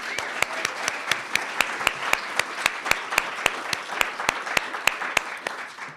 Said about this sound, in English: Let's do another round of applause for the round 2.